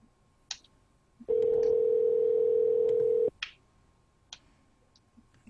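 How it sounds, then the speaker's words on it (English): A telephone call rings out on the line, heard as a single steady electronic ringback tone lasting about two seconds, with faint clicks and near-silence before and after. "It's ringing, guys. Hopefully they pick up."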